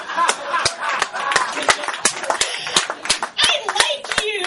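Scattered applause from a small comedy audience at a pub, with sharp separate hand claps at an uneven pace mixed with chatter and light laughter.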